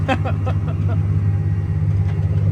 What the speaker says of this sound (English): there goes old Dean in the old spreader truck throwing out some rye